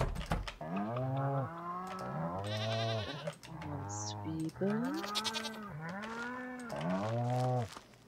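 Goats in Stardew Valley give long, wavering bleats one after another, loud and close, with a game jingle in the background.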